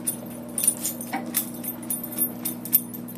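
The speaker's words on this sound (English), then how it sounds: "My dog's scratching herself, so sorry about the jingle in the background." A dog scratches herself in a room of fish tanks, and her collar jingles in quick, repeated bright bursts over a steady background hum.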